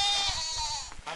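Goats on a Malawian farm bleat loudly in a long, wavering cry, followed by a few shorter bleats near the end, close by and without speech.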